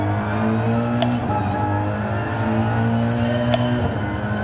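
A car engine in a sim racing game on the Nurburgring GP track holds a steady, loud, droning tone at fairly constant revs, with only slight pitch shifts and no talking.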